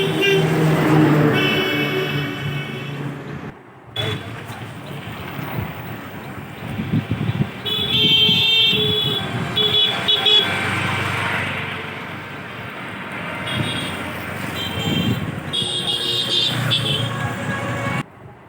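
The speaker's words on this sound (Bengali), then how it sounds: "ট্রেন থেকে নেমে আমরা ভ্যানে করে ঘুরে যাচ্ছি" Road noise and rushing wind surround a moving van carrying passengers from a train station, with passing traffic rumbling by and faint voices now and then.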